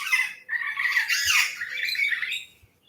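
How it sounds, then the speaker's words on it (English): Pet parrots squawking loudly indoors, two harsh, raspy calls close by, a short burst followed by a longer sustained screech. "and my co-host, parrots. Hear how loud they are?"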